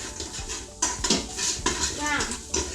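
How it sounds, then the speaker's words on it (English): Garlic sizzles softly in a pan while a utensil scrapes and clatters against the metal in irregular strokes, and a voice speaks briefly partway through. "Then we're just gonna brown the garlic, not too brown."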